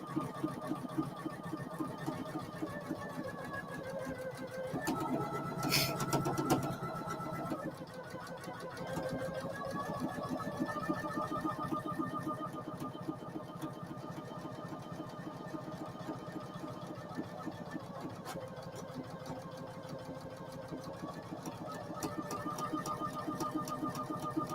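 A Poolin EOC06 single-needle embroidery machine stitching, a fast steady needle rattle with a humming motor running throughout, close and continuous, with a brief louder clatter partway through.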